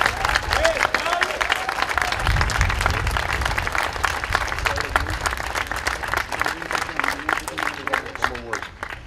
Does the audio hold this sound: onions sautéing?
no